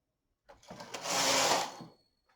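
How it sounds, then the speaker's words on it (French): The carriage of a Brother KH-940 electronic knitting machine sweeps across once while knitting stockinette, a close mechanical rasping clatter that builds up, holds for about a second and fades out. "On va pouvoir tricoter en jersey."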